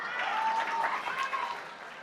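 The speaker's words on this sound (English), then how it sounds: "Clap." An audience claps briefly in a hall, a moderate wash of applause that swells and then thins out, with a voice faintly present underneath.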